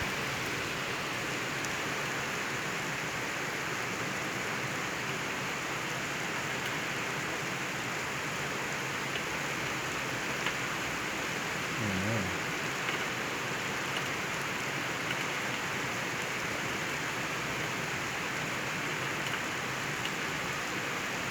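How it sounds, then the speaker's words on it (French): Heavy rain pours during a strong thunderstorm in Le Mans, France. It makes a dense, steady hiss with no break, at moderate volume, and a faint low thump comes near the middle. "Les cumuls de pluie, c'est impressionnant."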